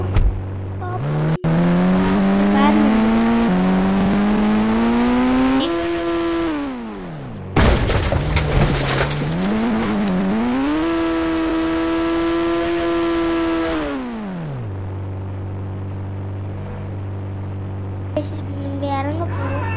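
A luxury car driven in GTA 5 during a mega ramp challenge, its engine revving and shifting through loud sustained rising and falling tones, cutting out briefly midway, then settling to a lower idle.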